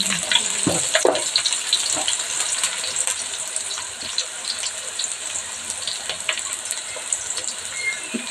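Sliced onions and fresh ginger paste sizzle in a pan with a steady, close crackling hiss and scattered sharp pops, with no talking.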